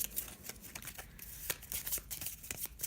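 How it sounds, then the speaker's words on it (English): Cards of a space-themed tabletop card game shuffled close up, a quiet run of crisp riffling and slapping bursts with soft pauses between them, no voices. "To set up the game, you simply shuffle the cards"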